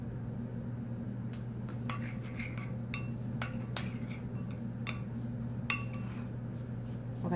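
A spoon clinks and scrapes against a bowl while spent coffee grounds are stirred together with olive oil, a run of light irregular taps over a low steady hum.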